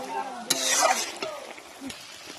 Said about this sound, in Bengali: এবার একটু এভাবে শুধু নাড়িয়ে নামাবো